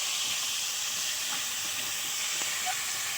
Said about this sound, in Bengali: পেঁয়াজ কুচিনো দিয়ে একটু ভালো করে ভেজে নিতে হবে